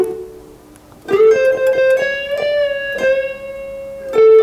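Electric guitar playing blues phrases, a run of sustained bent and picked notes ringing clearly with a soft pause at the start and a strong final attack.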